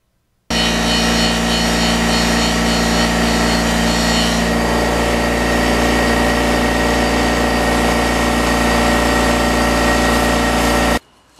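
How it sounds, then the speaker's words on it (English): Buffing wheel polishing a car headlight lens, a loud continuous motor whir with a steady drone that starts abruptly and cuts off near the end, alone with no voices. "Just fast forward through a minute or 2 of just buffing this on the wheel gingerly"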